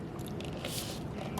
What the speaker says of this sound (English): now I'm just gonna pour my sauce all over